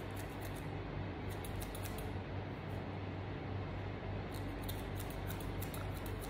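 Thinning scissors snipping through hair during a home haircut, a steady close run of fine crisp cuts over a constant low background hum, with no voices.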